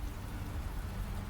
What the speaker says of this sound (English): Oh, that's rain.